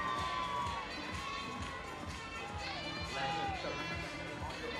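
A crowd at a fitness competition in Miami cheers and shouts continuously, with high whoops rising above a broad roar and voices talking over the noise.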